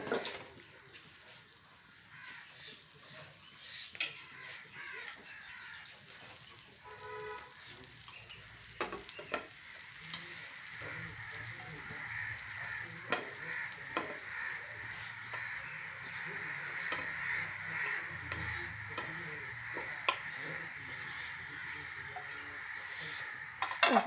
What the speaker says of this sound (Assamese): টাৱাখনত অকণমান বাটাৰ দিম আৰু যিখিনি ব্ৰেড মই পিচ কৰিছোঁ সেইখিনি অকণমান ভজাৰ নিচিনা কৰিম